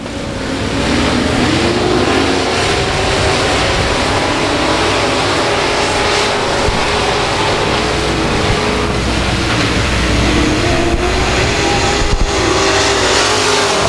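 Race cars race at South Texas Speedway in a loud, continuous engine roar. Several engines drone and shift pitch together as the pack passes, with no talk over it.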